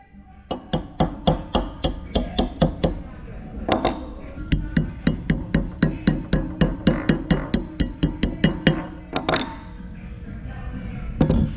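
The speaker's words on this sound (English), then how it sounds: "You may need to use like a hammer or something to tap those on." A hammer taps nuts onto bolts rapidly and steadily while fitting an aluminum front skid plate to a Bronco, dozens of sharp clinking strikes in quick bursts with brief pauses between runs.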